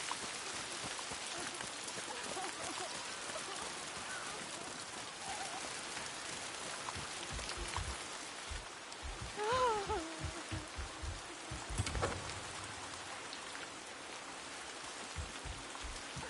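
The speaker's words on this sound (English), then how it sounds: "It's raining like this, almost exactly the same." Steady rain pours in the video game Ghost of Yotei, a dense continuous hiss with a few brief bird-like chirps and scattered low thumps partway through, no talking.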